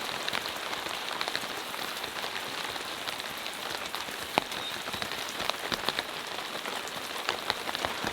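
Rain patters steadily on an elevated tent pitched on a freezing mountain during a storm, a dense hiss with scattered louder drops striking the fabric nearby.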